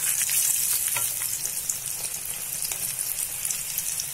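Cornflour-coated potato tikkis fry over medium heat in a kadhai, making a loud, dense, even crackle of hot oil that holds steady throughout with faint bubbling and no voices.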